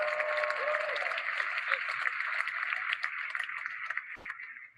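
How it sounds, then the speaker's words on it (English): An audience applauds at a live skills-training seminar, a dense steady clapping that fills the room and fades out at the end. "Give him a big round of applause,"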